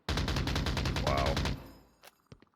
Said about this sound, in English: Gunshots on the far side.